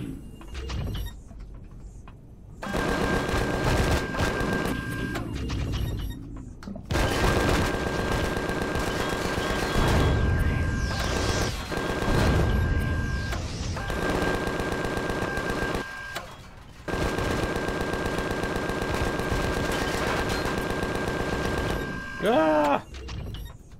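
Gunfire in the video game Empyrion, with long bursts of rapid automatic shots separated by short pauses and someone talking between and over them.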